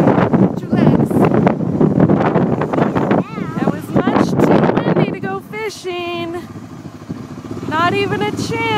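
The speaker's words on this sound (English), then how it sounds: "It was much too windy to go fishing." Strong outdoor wind buffets the microphone with a loud, continuous roaring rumble, strongest at the start and easing later, while people talk over it.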